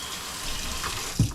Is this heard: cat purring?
no